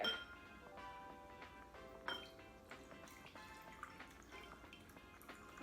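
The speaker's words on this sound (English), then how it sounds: "we have 1 cup of vinegar here, and Corban's gonna pour that vinegar into the glass bowl" Vinegar poured into a glass bowl during a kindergarten Halloween glow-in-the-dark egg activity, heard as faint close dripping and trickling with small glassy clinks and a louder splash near the middle, over a quiet room.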